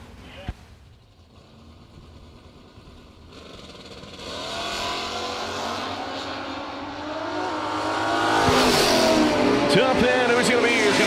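Drag racing cars and motorcycles launching down the strip at a drag race in Cedar Falls, engines rising from a distant build to a loud roaring pass, under an announcer's commentary.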